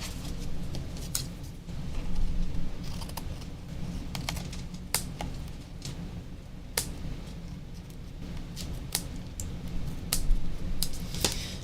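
Scissors trim small fabric scraps for a craft project, giving a series of crisp, irregular snips and clicks at close range over a low steady background hum, with no voices.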